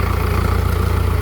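A farm tractor fitted with a modified exhaust pipe idles close by in Laos, giving a loud, steady, throbbing low engine rumble.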